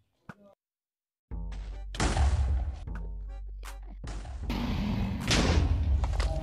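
End crystals shatter in Minecraft, a string of sharp game explosions and heavy thuds, loud and close, with short bursts followed by rumbling booms.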